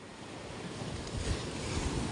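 Sea waves wash onto a beach in a steady, broad rush that swells slightly toward the middle, with wind noise on the microphone and no voices.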